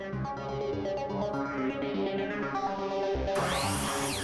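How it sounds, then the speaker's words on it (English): A continuous whirring power tool runs steadily, cutting old cedar deck-railing wood with a rising and falling pitch, the tone brightening near the end. "I sliced the wood down to size and began sanding with a coarse grit sandpaper."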